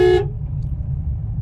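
A car horn gives one short, loud honk on a narrow single-lane road, then cuts off, leaving the low rumble of the idling car.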